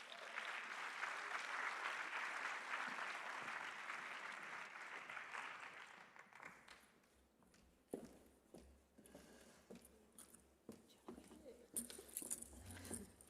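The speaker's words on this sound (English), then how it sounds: "So give them a round of applause." A conference audience applauds a panel being invited onto the stage, with sustained dense clapping for about six seconds that then fades into scattered footsteps and shuffling as people move about.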